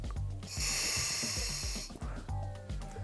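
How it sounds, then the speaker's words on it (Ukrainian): A diver breathes through the regulator of a Spare Air backup cylinder, giving a loud hissing inhalation followed by rhythmic low gurgling exhalation pulses, close to the microphone. "просто вставляємо в зуби та дихаємо"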